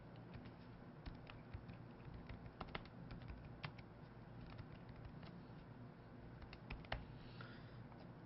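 Fingers tap on a computer keyboard during account sign-up, a quiet, irregular patter of keystrokes in a still room.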